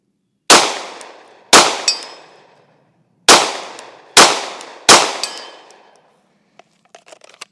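A Glock 17 Gen 6 pistol fires five loud, sharp shots at an outdoor range in uneven spacing, each crack followed by a ringing decay, with faint clicks and rattles near the end.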